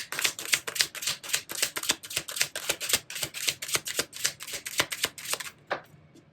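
Tarot cards riffle and snap in a steady run of quick, close shuffling bursts, repeated crisp flutters lasting several seconds before a short pause and a final slap.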